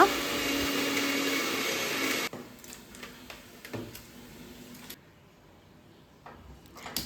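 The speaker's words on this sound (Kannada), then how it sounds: "ಹಾಕಿ ಇದನ್ನು ನಾನು ಚೆನ್ನಾಗಿ ಪೇಸ್ಟ್ ಮಾಡಿ ತಗೋತೀನಿ" An electric mixer grinds cinnamon, clove and cardamom into a paste for pulao, a loud whirring roar for about two seconds that then stops abruptly, followed by quieter handling knocks and clinks.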